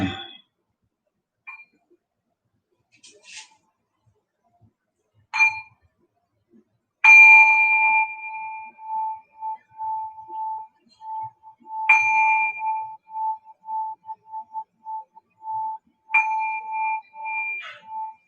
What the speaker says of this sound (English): As the sound of the bell